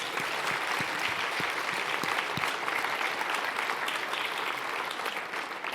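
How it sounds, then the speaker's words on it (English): A lecture audience claps loudly and steadily for a hospital team of nurses, respiratory therapists, support staff, EMS crew and specialists, a dense sustained applause filling the hall without talk. "So I want another big round of applause for all of the nurses, the RTs, the support staff, the EMS crew"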